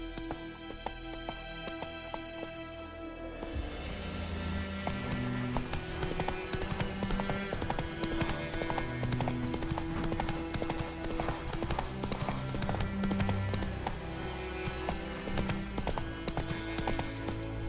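Hooves of Roach, a horse in The Witcher 3, clip-clopping at a steady galloping rhythm under a swelling orchestral game score, moderately quiet, with no talk.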